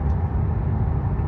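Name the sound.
BMW G20 330e hybrid exhaust rumbling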